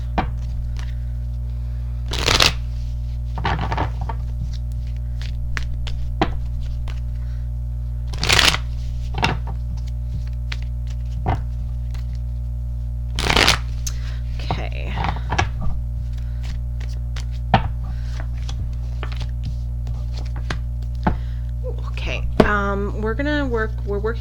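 Tarot and oracle cards (Everyday Witches Tarot and Witches Oracle) being shuffled, soft intermittent riffles and taps at close range over a steady low hum.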